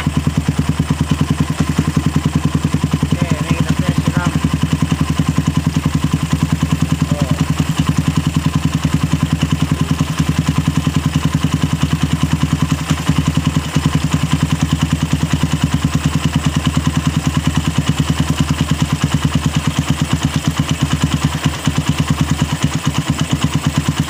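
Suzuki Satria FU 150 motorcycle engine running steadily throughout, a loud, close, continuous idle with a constant low throb and occasional clattery knocks, no talk over it.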